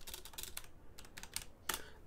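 A computer keyboard gets pressed in quick bursts of close, crisp clicking key taps with short pauses between groups, no talking.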